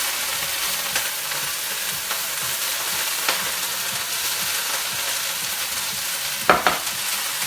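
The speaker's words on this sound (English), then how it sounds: "Throw in the onions" Onions sizzle in a sukiyaki hot-pot pan with a steady, bright frying hiss, broken by a few soft clicks and one sharp clack near the end.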